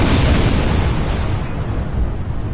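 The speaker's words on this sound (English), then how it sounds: "Explosions cause damage. Put some distance between yourself and explosives." Explosions in the space video game Star Trek Online make a loud, sustained rumbling roar with a dense, continuous blast that slowly eases off without fading out.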